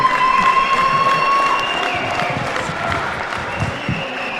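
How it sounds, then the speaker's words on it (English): Crowd applause and cheering at a boxing event in Farnworth, sustained broadband clapping with a steady tone and some voices mixed in, moderately loud throughout. "For the final time this evening, ladies and gentlemen, let's please have a round of applause for both boxers."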